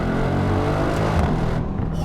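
Loud, close revving of a non-EU Mercedes-AMG GLC63S Coupe V8, a thick rumbling roar that cuts off sharply near the end with a quick exhaust bang.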